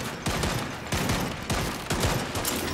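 Gears of War 5 firefight on Insane difficulty, with sustained weapon fire rattling in dense overlapping bursts and heavier blasts landing roughly every half second, loud and close throughout with no pause.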